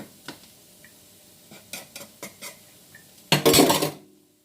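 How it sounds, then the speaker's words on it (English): Metal utensil scraping and clinking against the sides of a cooking pot in a home kitchen, a series of sharp separate scrapes and taps, then a louder, longer rasping scrape near the end, close and clear with no talk. "Make sure you scrape the sides real good."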